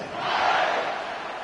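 Home crowd at a college football game in Texas roaring and cheering, a broad sustained wash of many voices swelling then holding steady.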